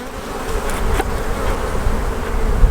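Honeybees hum steadily around an open hive just fitted with a queen excluder and super, a close, continuous drone with a few brief individual buzzes passing near.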